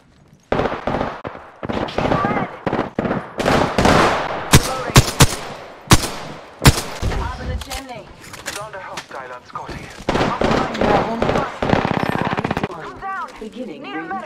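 Bursts of automatic gunfire from the Apex Legends battle royale video game crack in quick, uneven volleys with scattered single shots, loud and close, alongside game voice chatter.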